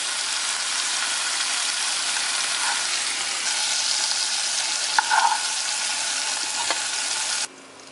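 Prawns fry in hot oil in a pan with a steady, crackling sizzle, a few sharper pops and spatters, then the noise stops abruptly.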